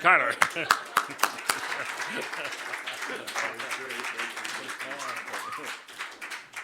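An audience at a recovery speaker meeting applauds to welcome a speaker, starting with several sharp claps that merge into steady clapping from a crowd. Someone talks over the clapping.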